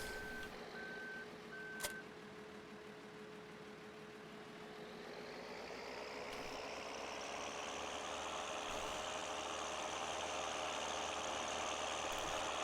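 A big, beefy tractor from Farming Simulator 2013 runs with a steady engine drone throughout. A whining tone slowly rises in pitch and fills out toward the end, and a short beeping sounds near the start.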